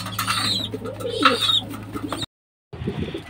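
Racing pigeon returning from a derby race, cooing close by in soft repeated calls with rustling around it, then a brief silence before a quieter stretch resumes.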